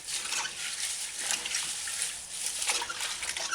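An herb bush is dipped in and out of a bowl of water, giving soft continuous sloshing and splashing up close at a low, even level.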